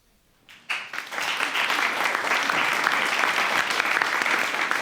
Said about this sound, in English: Please keep that clap going for your next presenter